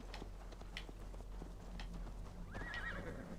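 A horse in the video game Assassin's Creed Valhalla whinnies near the end over soft, steady hoofbeats and low background noise, with no talking.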